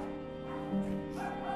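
Dogs kept in boxes inside a large barn, some about to give birth or newly whelped, let out a short yelping whimper amid a steady indoor hum.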